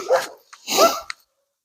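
A liver-coloured German shorthaired pointer lets out two short whimpering yelps close to the microphone, with a brief pause between them and silence after.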